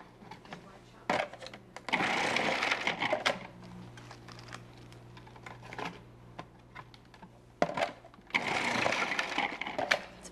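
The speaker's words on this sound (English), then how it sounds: "I'm going to start slicing the cabbage. I'm going to do this on pulse." A Cuisinart food processor slicing cabbage on pulse gives short bursts of whirring and chopping, two longer runs separated by quieter clatter and knocks, close up.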